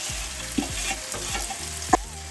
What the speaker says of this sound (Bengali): এর উপরে মাংসটা আস্তে আস্তে আমি ছেড়ে দেবো।